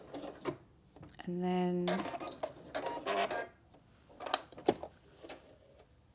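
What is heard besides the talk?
sewing machine back stitching stretch fabric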